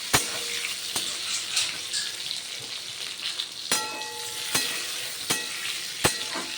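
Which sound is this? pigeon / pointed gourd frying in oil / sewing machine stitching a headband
pointed gourd frying in oil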